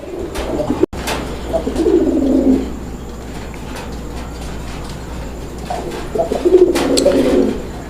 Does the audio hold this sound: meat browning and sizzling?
no